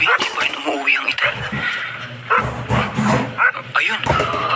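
A neighbour's dog barking and yipping at night, several sharp barks in irregular bursts at moderate distance, mixed with a voice talking.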